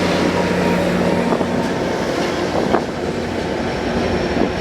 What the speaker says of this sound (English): Nice, 856 shoving this train to Union Station.